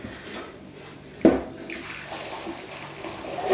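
Spaghetti going into a pot of hot water on a home stove: a sudden splash and hiss, then a steady bubbling wash of water that carries on to the end, with no talking.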